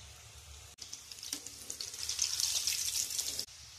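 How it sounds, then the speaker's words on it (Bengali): Small nimki dough pieces dropped into hot oil in a wok, bursting into a loud, steady bubbling sizzle that swells and holds after a brief pause, with no talk over it. "তেল গরম হয়ে গেছে,"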